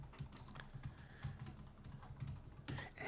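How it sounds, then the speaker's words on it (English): Fingers tap out a web address on a computer keyboard while filling in an online form, a quiet, close, irregular run of light key clicks with occasional heavier strikes, no voices. "then I can type my website URL"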